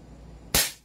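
An M4A1 carbine airsoft gun fires one sharp, loud, close shot, a single crack that decays quickly after a brief low hum.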